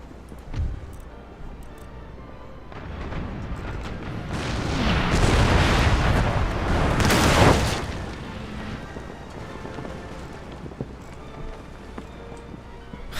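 Naval cannon fire from warships in a battle in Empire: Total War, deep booming blasts swelling into a dense rumbling barrage in the middle, then fading to a low steady background.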